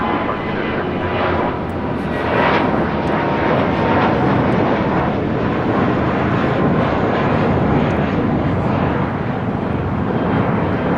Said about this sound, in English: This is United Airlines 1395 taking off to Austin on an A320.